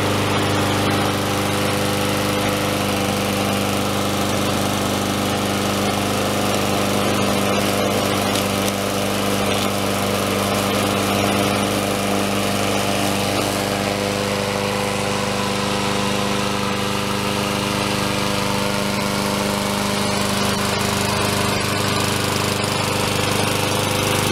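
A Troy-Bilt 21-inch lawn mower's small engine runs loud and close after starting, a steady, rough continuous drone lasting the whole stretch without pause.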